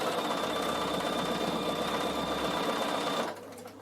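Sewing machine zigzag stitching through wool felt for a door draught stopper, a steady close mechanical whirr running continuously for about three seconds before it abruptly stops.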